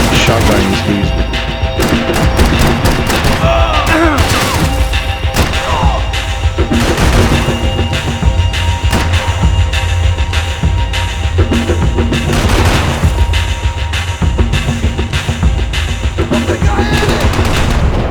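Shotgun gunfire in the video game Max Payne 3, with dense, loud bursts of shots and crashing impacts running almost continuously through a busy, chaotic firefight.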